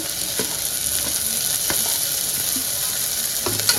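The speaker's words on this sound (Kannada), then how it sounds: "ಅದನ್ನು ಸ್ವಲ್ಪ ತುಪ್ಪದಲ್ಲಿ ಹಾಗೆ ಫ್ರೈ ಮಾಡಿಕೊಂಡ್ರೆ ಸ್ವಲ್ಪ ಹಸಿ ಘಮ ಎಲ್ಲ ಹೋಗುತ್ತೆ ಸೊಪ್ಪಿಂದು" Chopped palak spinach fries in ghee in a pan, a steady close sizzle with light stirring scrapes throughout.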